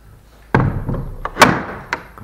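A heavy carved wooden church door at St Mary's, Glemsford, is pulled shut by a strap, landing with a loud booming slam, followed by a few softer knocks and thuds as it settles, echoing in the quiet church.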